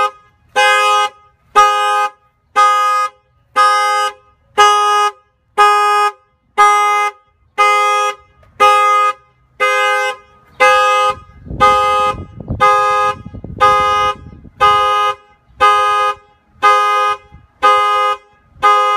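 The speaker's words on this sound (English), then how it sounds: "Okay, that's off the factory alarm." Factory car alarm on a Jeep Wrangler honking in a steady repeating rhythm, about fifteen loud evenly spaced horn blasts with a brief rumble of handling noise midway.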